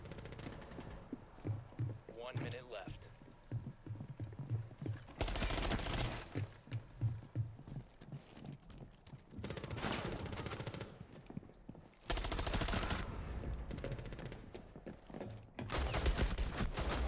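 Bursts of video game gunfire from a pistol and a Desert Eagle, several loud clusters of rapid shots separated by quieter stretches, with faint voices talking under the quieter parts.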